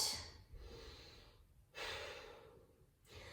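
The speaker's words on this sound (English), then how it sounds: "Take a big breath in and out" A deep yoga breath, a long audible inhale fading out, then a second rushing exhale and the start of another breath, close and quiet with no talking.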